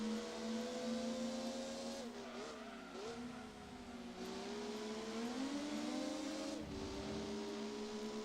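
A Honda Type R engine in the racing game Gran Turismo 2 drones steadily while reversing, its whining pitch dipping and climbing as the car shifts and accelerates, loud and continuous with no talk.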